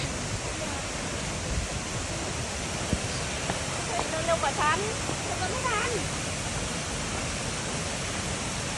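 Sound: waterfall rushing

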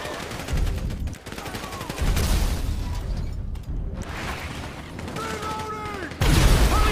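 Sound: gunfire in shootout, from video game GTA 5

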